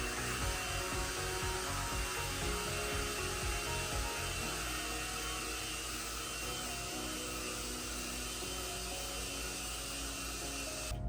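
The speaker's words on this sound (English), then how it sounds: "turn my blow dryer to the opposite angle" A hair blow dryer fitted with a concentrator nozzle runs steadily at close range, a constant airy whine and rush that holds unbroken, with faint rubbing and handling noises underneath and no speech.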